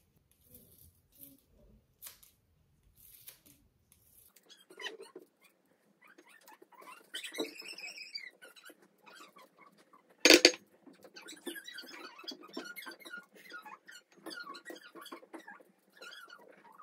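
Quiet snipping of small multi-blade herb scissors cutting chives, a series of light clicks and rustles with one sharper snap midway, close and faint.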